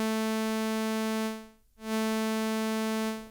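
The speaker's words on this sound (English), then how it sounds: "But I could make some sound like this where it's kind of swelling." A sustained synth tone made in Vital holds a steady buzzy chord, fades almost to nothing, then swells back up to full volume with a slow envelope before trailing off, alone and clean.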